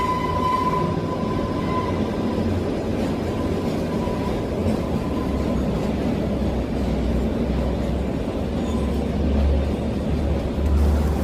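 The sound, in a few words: Kalka Shimla narrow gauge heritage train running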